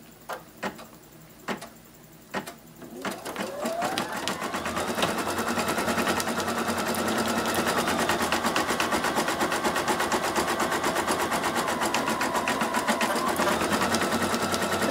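An embroidery machine stitches a felt hair barrette, its needle hammering in a fast, steady rhythm that starts after a few light clicks and keeps running loud and close.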